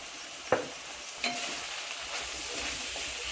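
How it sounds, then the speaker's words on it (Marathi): Vegetables sautéed with spices, asafoetida, red chilli powder and salt in a pan, a faint soft sizzle with two brief stirring clacks near the start, quiet and steady with no talking. "चांगलं परतून घ्यायचं. थोडीशी कोथिंबीर त्याच्यातच परतायची."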